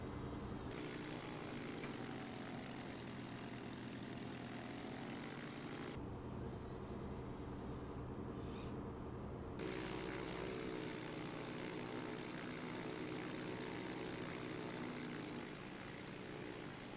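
A Jabiru J170 ultralight propeller engine at full throttle in the Prepar3D flight simulator, a loud, steady droning roar that holds throughout, with a brief shift in tone partway, and no voices.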